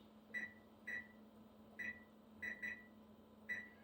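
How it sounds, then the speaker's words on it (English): An oven timer gives six short electronic beeps in an uneven rhythm as it is set, two close together near the end, clear and fairly near over a low steady hum, with no talk. "We'll set the timer for 15 minutes."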